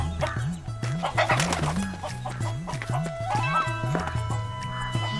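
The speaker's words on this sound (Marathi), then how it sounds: "अरे कोंबडी पकड कोंबडी पकड" Chickens cluck in a steady rhythmic run, close and loud, with a rooster-like call and some voices mixed in behind.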